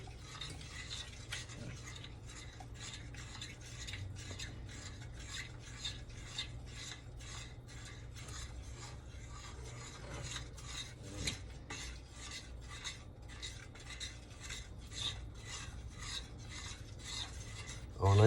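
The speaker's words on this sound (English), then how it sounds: "Stir it all in nice. Make sure that butter gets in there good." Spoon steadily stirring butter into a thick peanut butter and chocolate mixture in a bowl, a faint, continuous scraping and rasping with a regular back-and-forth rhythm, close up and without talk.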